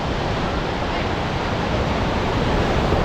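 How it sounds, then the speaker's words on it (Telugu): Sea waves wash along the shore at Puducherry, a continuous, even hiss of surf with no distinct breaks and no voices. "మన చూపు మేరల మొత్తం సముద్రమే."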